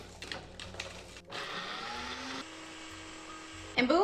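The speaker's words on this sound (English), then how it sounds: "we're gonna use our Foodie Ninja blender to blend our chiles" A Foodie Ninja blender blends chiles: a steady whirring motor drone that shifts pitch partway through, ending in a louder burst as it winds down.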